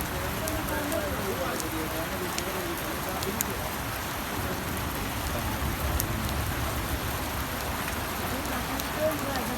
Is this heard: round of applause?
no